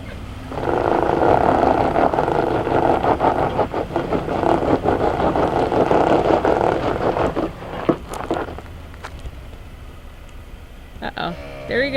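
A 2020 Ford F250 Super Duty with open, unlocked differentials spins its wheels in soft, very dry dirt off road, a loud sustained engine roar and churning lasting several seconds before easing off to a lower rumble.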